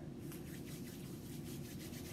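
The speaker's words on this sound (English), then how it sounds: "Rub my hands" Two hands rub briskly together in quick, steady strokes, making a soft, continuous swishing friction close by.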